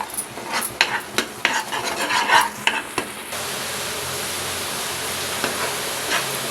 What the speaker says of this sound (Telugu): నూనె పైకి తేలేంత వరకు వేయించుకుందాం.